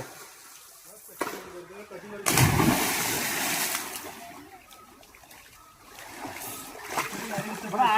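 A person jumps into a village pond after work, landing with a loud splash followed by lingering water churn, while people talk and shout throughout.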